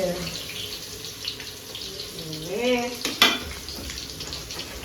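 Food frying in a home kitchen pan, a steady sizzling hiss running throughout with a brief voice and a sharp clink near the middle.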